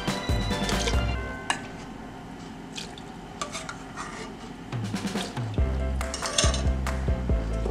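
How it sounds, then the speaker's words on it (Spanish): Tomatoes dropped into a blender jar, heard as several wet squishes and thuds with clinks against the glass and dripping in between, close up with no talk. "vamos a poner nuestros tomates aquí en el vaso de la licuadora"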